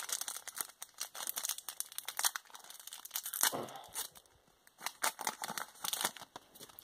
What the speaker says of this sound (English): let's open up the first pack